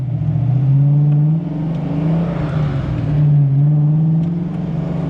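A Foxbody Mustang engine idles loud and close with a steady low rumble that swells and dips in a slight, irregular surge. No one speaks.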